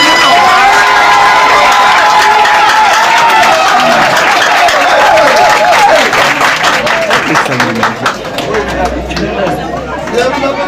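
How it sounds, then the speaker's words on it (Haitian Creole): Loud applause from a conference audience, steady dense clapping mixed with crowd chatter and some cheering, close and continuous for the whole stretch. "Un gros applaudissement pour mesdames."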